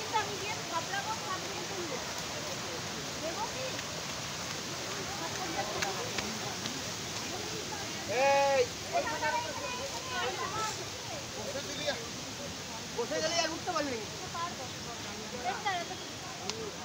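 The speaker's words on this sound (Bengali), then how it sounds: "এই যে ঝর্ণা, পাহাড়ের খাদ হয়ে, পাহাড়ের খাদ ভেঙে এই যে ঝর্ণা" A waterfall in the Ayodhya Hills of Purulia pours down a hillside gorge in a steady, broad rushing roar, with people talking over it.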